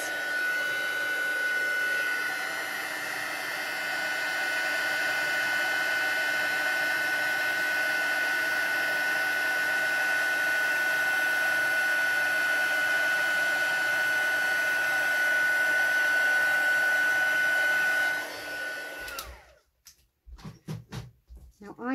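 A heat tool blows a loud, steady whirring drone for nearly twenty seconds while embossing powder melts on a handmade card, then cuts off and a few knocks and handling sounds follow.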